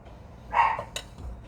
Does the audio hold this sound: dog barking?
yes